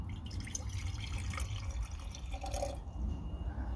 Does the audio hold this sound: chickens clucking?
no